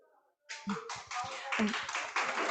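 Clapping at a group meeting welcoming first-time attendees starts abruptly after a quiet moment and continues as a steady patter of many hands, fairly close, with voices mixed in underneath.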